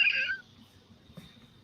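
A kitten gives one short, clear meow at the very start, followed by quiet room sound.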